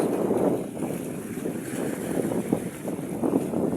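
A fishing boat out at sea, with a steady rush of wind buffeting the microphone over the low rumble of the sea and water, continuous and loud without talk.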